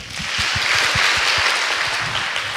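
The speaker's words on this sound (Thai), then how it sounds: "เสียงปรบมือหน่อยครับ" Audience applause at a Thai youth novice-ordination event, a dense, steady wash of many hands clapping close and loud for the whole stretch, with a few low thumps under it.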